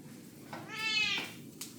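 A single drawn-out meow from an elderly ragdoll cat, clear and fairly close, rising and falling over about half a second with faint room noise around it.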